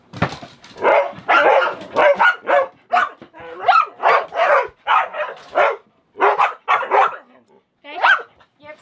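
A dog barks in repeated short yips and barks, close and fairly loud, at sea aboard a sailboat crossing the North Atlantic, with the barks coming in quick bursts across the whole stretch.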